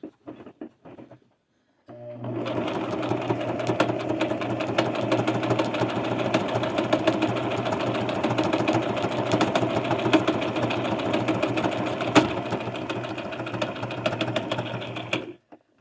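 A sewing machine stitches a pouch, running steadily for over ten seconds, its motor humming under a fast mechanical stitching rattle. Occasional sharper clanks from the bobbin knock through; the machine is not faulty.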